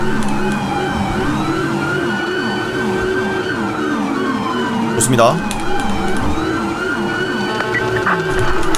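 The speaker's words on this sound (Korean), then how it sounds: "저기 또 경찰차 한 대 가고 있죠?" A police car siren wails in the video game GTA V with the LSPDFR police mod, its rising and falling sweeps repeating steadily throughout. Engine noise runs underneath, and someone speaks over it.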